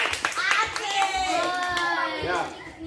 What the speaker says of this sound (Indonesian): tepuk tangan buat dia dulu